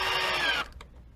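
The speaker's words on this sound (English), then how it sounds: "I'm actually pulling up on the drill while the screw is going in." A power drill drives a NevRStrip machine screw, a loud high whine for about half a second that cuts off abruptly, followed by a couple of faint clicks.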